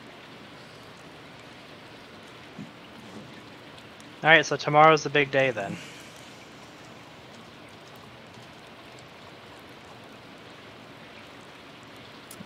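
Soft, steady rain in the farming video game Stardew Valley, a constant gentle patter running throughout while someone talks briefly over it near the middle.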